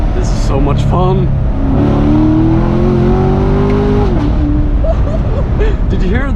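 A 2016 Chevrolet Corvette C7 Stingray engine revs up loud and close under acceleration, climbing in pitch and then dropping sharply at an abrupt gear change before pulling again, heard from inside the car with voices talking over it.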